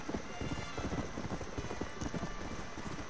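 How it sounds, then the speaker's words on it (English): Galloping horse hooves in Red Dead Redemption, a steady rapid clip-clop rhythm running throughout at moderate loudness. "that's full bore racing on the horse to get my fat ass to where I gotta go"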